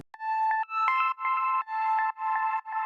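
An ambient synth patch from Atom's sound pack plays soft bell-like tones in a gentle repeating rhythm of short swelling notes, clean and fairly quiet with no talking.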